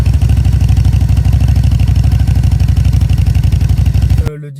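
Custom A2-licence motorcycle engine running steadily with a loud, close, rapid pulsing exhaust throb for several seconds before cutting off abruptly.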